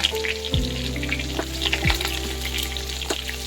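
Ginger, chillies, coriander and other greens hit hot oil for a tempering in a foxtail millet stir fry. A loud, close sizzle runs throughout, with a few clattering stirs.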